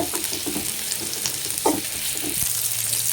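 Thin onion slices fry in hot oil, giving a dense, steady sizzle with soft scraping as they are stirred. There is no speech.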